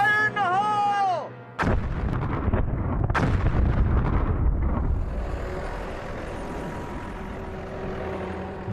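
Small blasting charges go off at a dinosaur fossil dig, a loud close boom followed by a second blast and a long rumbling roar of falling debris that slowly fades.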